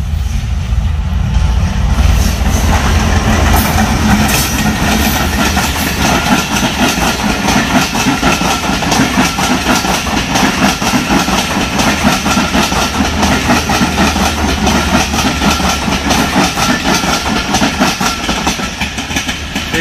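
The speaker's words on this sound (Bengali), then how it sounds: "ট্রেন চলে গেল।" A Bangladeshi train rolls past near the Hili border crossing, a loud close continuous rumble with rhythmic clickety-clack of wheels over rail joints and a brief horn-like tone near the start, no voices.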